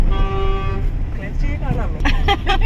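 A vehicle horn sounds a sustained toot in traffic, a steady tone over engine and road rumble, followed by a person speaking close by.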